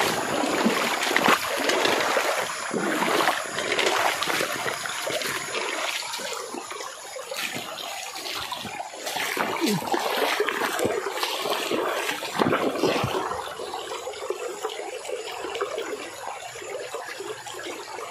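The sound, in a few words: bubbling in water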